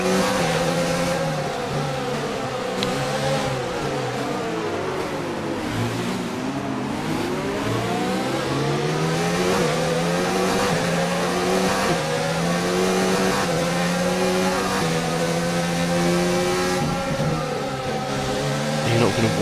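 Race car engine from the F1 2019 video game revving continuously at a practice start, with a steady high whine rising and falling in pitch, loud and constant throughout.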